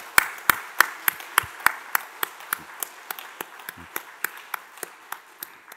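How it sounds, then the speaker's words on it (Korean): Slow, rhythmic clapping at a Korean church Sunday service, about twenty sharp, evenly spaced claps ringing out clearly in a quiet hall as flowers and a gift are presented. "크게 박수해 주시기 바랍니다"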